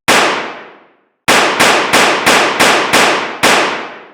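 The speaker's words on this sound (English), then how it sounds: "Maybe I'll just shoot him in the dick" Loud, sharp gunshots from the video game Saints Row: one crack rings out and decays for a second, then six rapid, evenly spaced shots follow, each with a short ringing tail.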